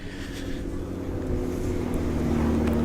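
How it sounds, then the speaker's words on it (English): A McLaren twin-turbo V8 rumbles at idle in a public car park, its low, steady drone building slightly and sitting close by, with faint wind noise and no voices. "Say McLaren is off now, twin turbo V8 rumbling away there."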